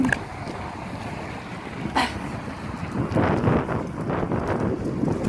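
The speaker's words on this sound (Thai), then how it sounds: "ลม" Strong early-morning wind on a cold, dark winter day outdoors, a steady broadband rush with louder buffeting gusts on the microphone toward the end; no talking.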